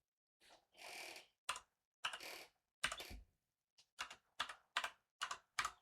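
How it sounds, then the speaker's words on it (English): Fingers tapping random keys on a computer keyboard to enter a passphrase in an app, arriving as a string of separate, close, crisp clicks in short clusters with brief pauses between them. "Let's create some passphrase here. So I'll say I'm just typing randomly"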